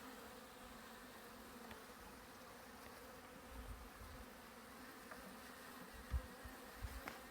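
About three pounds of honeybees hum inside a package box, a faint, steady, low buzzing drone with a few soft knocks and bumps, no talking.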